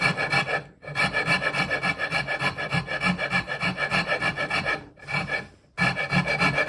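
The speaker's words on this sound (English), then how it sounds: "I'm gonna work on getting that closer to where it should be with the rasp" A wood rasp shapes a chair leg in rhythmic rasping strokes, close and loud, in three bursts of rapid back-and-forth filing separated by short pauses.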